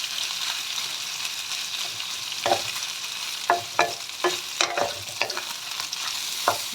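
A spoon scrapes and clinks through mung bean soup in a cooking pot, a series of sharp knocks and swishes over a soft bubbling simmer, close and clear, with no talking.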